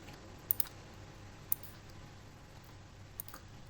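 A few sharp, faint computer mouse clicks on a desk, one pair near the start, a single click in the middle and another pair near the end, set against quiet room hiss with no talking.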